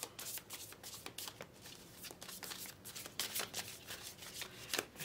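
Tarot cards shuffled by hand, with repeated riffling flutters and soft slaps in uneven bursts, close and clear with no talking.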